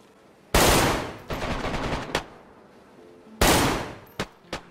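Loud automatic rifle bursts with tracer rounds in DayZ standalone: two long rapid strings of shots with echoing tails, followed by a few single sharp cracks, close and alone.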